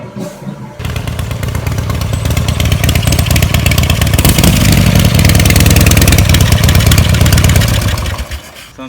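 A 1985 Harley-Davidson FXSB Lowrider motorcycle engine fires up and runs loud and close, with a deep rumbling, throbbing idle that swells slightly as it is revved and then eases off.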